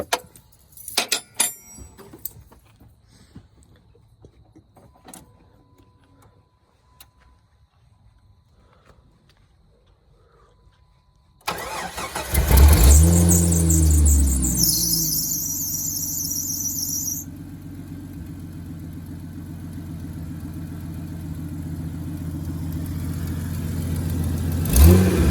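A Jeep engine cranks and fires up after its pulley is tightened, a loud rough start with a brief high belt squeal before settling into a steady idle, following quieter clinking work noises.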